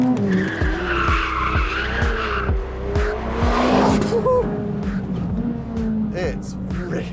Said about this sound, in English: when you come out the corner and light those turbos up